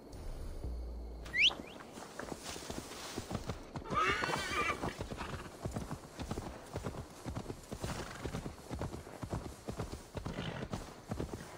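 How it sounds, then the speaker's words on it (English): A horse neighs briefly in the video game Assassin's Creed Valhalla amid a steady rhythm of clip-clopping hooves, moderately close and fairly quiet throughout. "Now to deliver Magni his horse."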